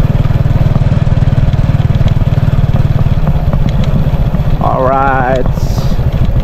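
A motorcycle engine idles close by with a steady low rumble that runs throughout, and someone speaks briefly near the end.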